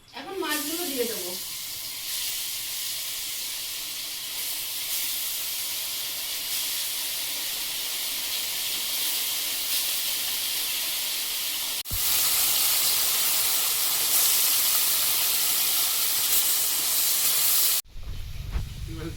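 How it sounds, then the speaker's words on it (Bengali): Fish going into hot oil produce a loud, even hiss of frying that fills the whole stretch, jumps louder partway through and cuts off briefly near the end. "তেল গরম হয়েছে, এখন মাছগুলো দিয়ে দেবো।"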